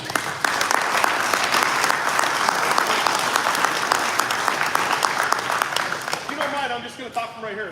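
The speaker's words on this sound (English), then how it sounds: "Let's give him a round of applause." Sustained applause from a large crowd, loud and steady for several seconds, fading out as a voice starts speaking at the end.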